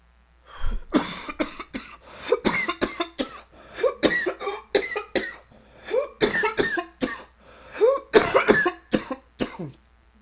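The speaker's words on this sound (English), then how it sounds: "I'm smoking the vape, so it makes me cough extra hard." Someone coughs hard and repeatedly after smoking a vape, in harsh rapid bursts with brief gaps between fits, close and loud throughout.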